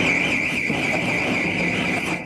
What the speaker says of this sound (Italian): Il suono degli allarmi dei geolaser che nelle scorse ore hanno segnalato continui movimenti del terreno oggi si spegne.